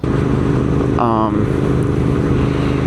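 A Royal Enfield Interceptor 650 motorcycle with an aftermarket AEW exhaust runs with a throaty, rumbling exhaust note, steady and close, with a brief rising rev in the middle.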